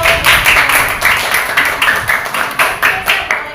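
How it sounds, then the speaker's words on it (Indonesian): Children in a classroom clap together in a loud, fairly regular rhythm of repeated bursts, close and energetic, with no speech over it. "kalau begitu tepuk tangan untuk"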